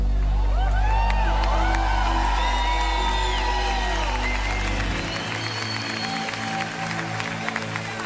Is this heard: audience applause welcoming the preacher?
yes